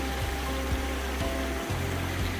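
A waterfall and stream on the Rainbow Falls Trail in the Great Smoky Mountains, with the water running low, make a steady, dense rush that stays even throughout.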